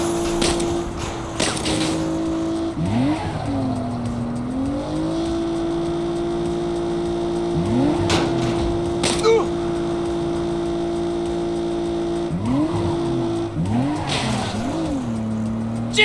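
A car in Saints Row drives with a steady engine drone, while tires squeal in repeated sliding bursts through the turns and skids.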